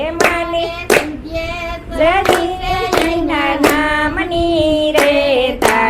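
Hands clap in a steady beat along to a Gujarati devotional song to the mother goddess, sharp and loud, about one clap per second under continuous sung melody.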